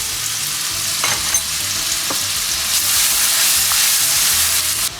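Finely chopped onion fries in hot oil for an aloo baingan dish, giving a loud, steady sizzle that hisses without pause, with a few brief crackles and no one talking.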